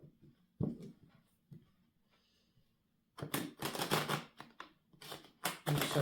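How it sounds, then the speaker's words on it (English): Tarot cards being shuffled by hand in the upright position, giving scattered soft riffles and taps at first, then a dense run of quick papery flutters in bursts, close and fairly quiet with no talking. "I'm going to shuffle the cards in the upright"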